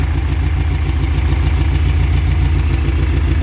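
A VW Beetle engine with a Weber carburettor, running with issues, idles loudly and steadily close by, with a rhythmic, slightly lumpy throb and a constant mechanical clatter.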